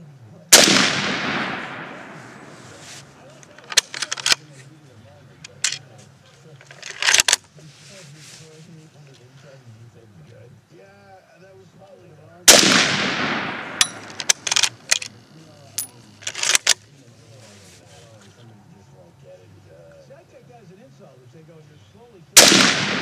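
Mosin Nagant rifle firing with its bayonet extended: two loud, sharp shots spaced well apart at close range, each followed by clatter and rattling handling noise, with faint outdoor range ambience in between.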